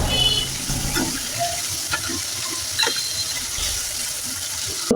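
Broiler chicken pieces frying in oil in a pot, a continuous moderate sizzle with a few spoon clatters and scrapes as the meat is turned, close by with no talking.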